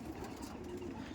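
A Teddy pigeon, a high-flying Giribaz type, coos softly and steadily at close range over a short stretch, low and throaty with faint background noise.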